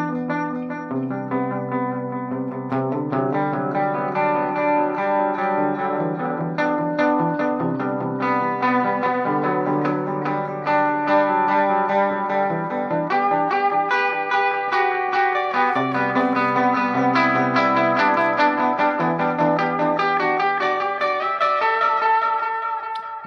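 An electric guitar runs through a delay pedal synced by tap tempo, with chorus-like modulation, and sustained chords and notes repeat in rhythmic echoes that blend into a lush, continuous wash, loud and with no talking.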